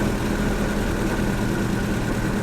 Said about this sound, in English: there's a subtle change in the engine note when I remove this